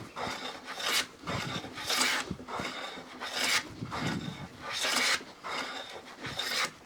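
A hand plane with its mouth opened wide cuts across wood in about five rhythmic rasping strokes, each a close, loud shaving swish separated by brief pauses, with no talking.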